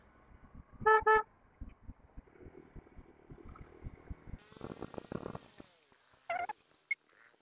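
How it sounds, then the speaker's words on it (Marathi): Two quick car horn honks, then more short toots later, over the low rumble of idling and passing traffic in a jam on the Mumbai-Goa highway, NH66. "पुढे ट्रॅफिक जॅम आहे."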